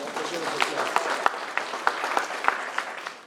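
Applause for a council member at a mayoral inauguration in Taylor, with a steady patter of many hands and a few sharper nearby claps standing out over three seconds.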